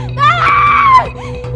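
A woman screams loudly for help in a dramatized indoor scene, one sustained piercing shriek that rises and then breaks off, with no other voices in between.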